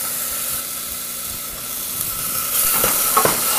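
Small pieces of bacon rendering in a pan for a pot of beans, giving a steady close hiss of sizzling fat that grows brighter and more crackly toward the end, with no talk.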